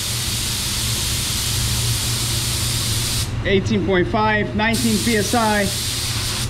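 Spray gun laying a waterbase paint control coat before clear coat, a loud continuous airy hiss that pauses briefly while someone talks, then resumes.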